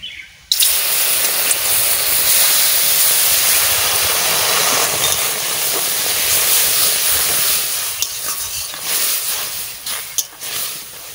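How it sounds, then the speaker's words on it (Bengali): Water poured onto hot semolina fried golden in ghee for sooji halwa, erupting in a sudden loud hiss of steam and spatter that holds steadily, then sputters and fades slightly toward the end. "সাদা সুজি একদম ঘিয়ে কালার হয়ে গেছে। এবারটা আমি জল দেব।"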